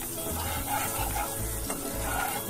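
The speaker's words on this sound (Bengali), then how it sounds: "রসুনটাকে খুব বেশি ফ্রাই করতে হবে না" Garlic frying in a pan, stirred with scraping strokes over a continuous sizzle, close and fairly loud, in short rhythmic bursts with no talking.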